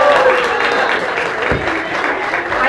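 A modeling show crowd applauds and cheers, a steady dense clapping with scattered shouts and voices layered over it for a few seconds.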